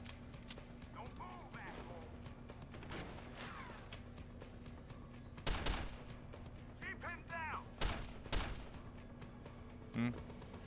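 Bursts of enemy gunfire in the shooter Deus Ex: Human Revolution, a few loud sharp volleys and single shots scattered over a low mechanical hum, mixed with other game effects and intermittent speech.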